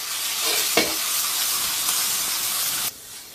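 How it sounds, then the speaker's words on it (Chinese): Shredded pork drops into hot melted lard in a wok and sizzles loudly and steadily at close range, with a brief clatter of the meat going in, before the frying noise cuts down sharply near the end. "锅中来块猪油，油热下入肉丝儿"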